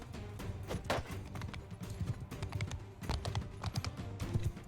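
Horse hooves clip-clop steadily in Mount & Blade II: Bannerlord, a continuous run of sharp hoof strikes mixed with game ambience at moderate level, with no one talking.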